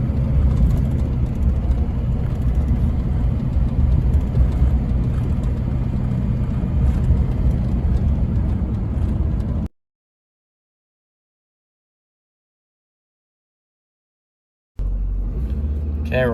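An LBZ Duramax diesel pickup crawls along in limp mode with revs capped near 2,000 RPM. A loud, steady low rumble fills the cab, cuts to silence for about five seconds, then returns.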